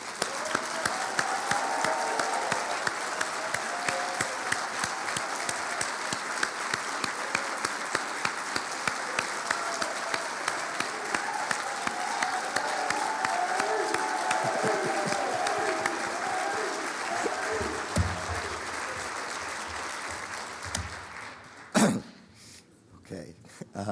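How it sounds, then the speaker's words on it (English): A conference audience at a community violence intervention grantee gathering applauds steadily for about twenty seconds, dense clapping that thins out near the end, with a few coughs and throat clearings. "Can we have a round of applause just for Eddie?"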